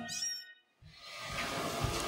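A cat gives one short, high meow at the start, close by, then a soft rustling background follows; the cats are named Marfa and Nikisa.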